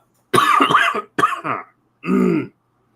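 A person clears their throat in two rough bursts, then gives a single short cough after a brief pause, close and loud.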